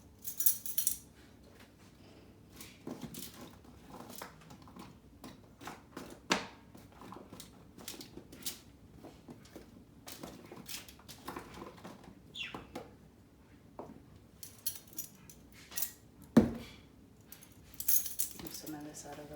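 A set of metal measuring spoons jangles and clinks in scattered, quiet bursts as a tablespoon is picked out, with a few sharper clacks amid low background talk.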